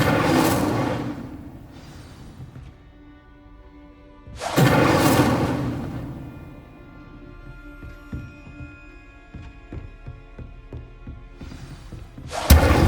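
A fire spell cast in Hogwarts Legacy on PS5, heard as a loud whooshing burst at the start, a second big flare near the midpoint and a final sharp blast at the end, with thuds and crackles in between and no talking.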